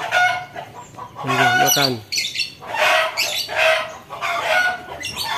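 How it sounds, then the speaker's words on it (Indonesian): A caged sirpu bird calls up close in loud, harsh squawks and rising chattering notes in several bursts, and a person briefly speaks nearby. "Jadi burungnya bisa bunyi-bunyi ya teman."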